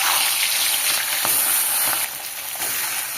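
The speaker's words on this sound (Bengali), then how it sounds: "তেল গরম হয়ে গেছে, মাছ দিয়ে দেবো।" Tilapia fish dropped into hot oil for a potato curry gives a loud close sizzle with crackling spatter, easing slightly near the end.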